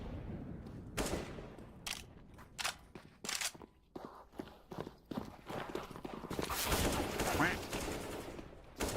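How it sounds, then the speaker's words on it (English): Gunfire in the first-person shooter Splitgate comes as sharp, scattered shots with brief bursts and a dense stretch of firing near the end, all fairly close and loud. "Whenever the cheater's crosshair is moved over a friendly player, it automatically fires their weapon."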